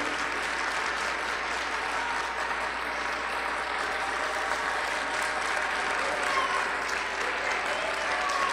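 A church congregation applauds in a sustained, even roar of many hands clapping together, filling the space without a break for over eight seconds.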